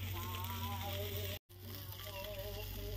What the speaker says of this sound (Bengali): বাইরে মাছ ভাজা করছি